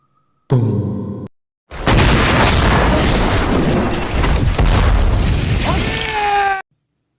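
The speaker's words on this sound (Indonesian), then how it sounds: "bom pun meledak dan membunuh petinggi Israel tersebut" A bomb explosion in a film: a loud, sustained roaring blast with heavy low rumble lasting several seconds, preceded by a short burst, with faint tonal sounds near the end.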